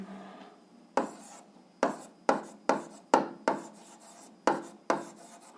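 A pen or pencil writes on paper while solving an algebra exercise, making about nine short, scratchy strokes at an irregular pace. The strokes are close and crisp against a quiet background.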